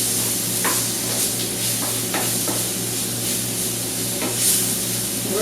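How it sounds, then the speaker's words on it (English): Onions and mushrooms coated in flour sautéing in a pan for chicken fried steak gravy, a steady close sizzle with occasional spoon taps and scrapes, no voices. "We're just going to saute that for a little bit more."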